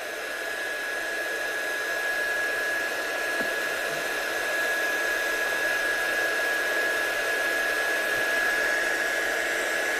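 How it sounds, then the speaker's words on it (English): Heat gun blowing hot air over wet embossing paste and glue on a handmade card, a steady loud whooshing roar that runs unbroken for the whole stretch with no voices. "you can speed it up a little bit with a heat gun"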